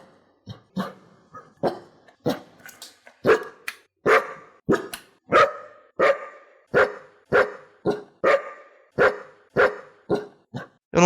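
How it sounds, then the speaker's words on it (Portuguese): A dog barks again and again, sharp loud barks in a fairly regular rhythm that grow stronger and closer together, with no talking between them. "Não é todo mundo que pode latir pros ouvintes e a galera considerar isso fofo."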